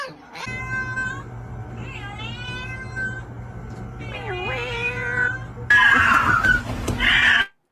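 A cat meows repeatedly in long, drawn-out, loud calls, one rising into a harsh caterwaul near the end, over a steady low hum in the background.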